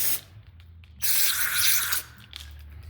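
Carburetor cleaner sprayed from an aerosol can onto the outside of a Troy Bilt Storm snow blower carburetor: one steady, close hissing burst lasting about a second, with softer brief spurts before and after.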